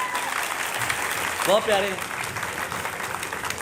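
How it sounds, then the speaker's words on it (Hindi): A crowd at a mushaira poetry gathering applauds for a child on stage, broad steady clapping running throughout, with a brief spoken exclamation partway through. "ईसा के लिए बहुत सी तालियां होनी चाहिए"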